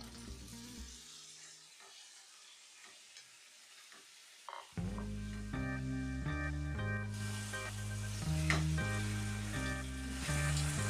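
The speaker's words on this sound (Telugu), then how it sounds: "ఇప్పుడు చికెన్ ముక్కలు వేసుకొని కలుపుకుందాం." Chicken pieces for hotel-style chicken kurma frying in a pan and being stirred, a quiet start giving way to a loud, steady sizzle with scraping stirs, no talking.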